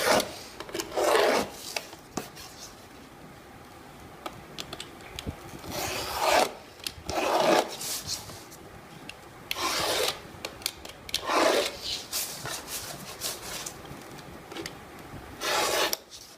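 Back blade of a cutter scoring boxboard, several rasping scraping strokes in bursts with pauses between, close and fairly loud, no talking.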